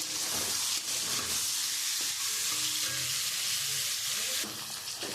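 Pepper-and-salt-rubbed meat fries in hot prawn oil for mixed rice, a loud continuous sizzle and hiss close by, with brief stirring scrapes and a slight drop in the frying noise near the end.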